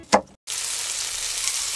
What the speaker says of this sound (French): je vais faire fondre le beurre dans une casserole